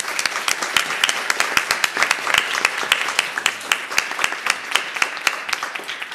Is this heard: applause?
yes